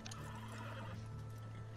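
A horse in the Red Dead Online video game whinnies with hooves clip-clopping beneath, both faint and low in level throughout.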